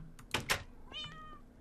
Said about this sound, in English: here's the breeding room for the cats